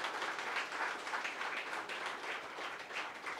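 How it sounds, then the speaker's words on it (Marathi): An audience at a book launch applauding for Ananya, a steady wash of many hands clapping, moderately loud and sustained with no speech over it. "अनन्यासाठी टाळ्यांचा कडकडाट करूयात"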